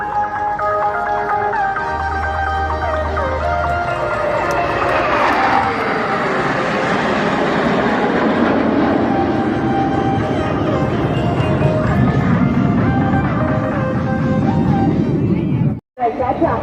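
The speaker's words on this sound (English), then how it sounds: "भारत का गौरव light combat aircraft तेजस formation में।" Tejas light combat aircraft fly in formation over an outdoor display at Sangam, Prayagraj, producing a sustained loud jet roar that swells and shifts in pitch amid crowd chatter and background noise.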